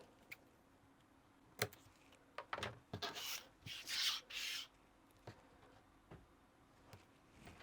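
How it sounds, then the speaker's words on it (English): Red liner tape is handled on a pop-up card, with scattered close crinkles and sharp peeling rips that rise to several louder tearing bursts in the middle, and no talk. "to the two ends, I'm just going to add some red liner tape"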